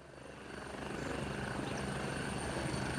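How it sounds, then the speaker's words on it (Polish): A helicopter in the video game Gray Zone Warfare flies in, its rotor roar swelling from moderate to loud and holding as a steady broadband drone, with no voices over it. "Ten helikopter po prostu szybko cię transportuje do bazy twojej frakcji."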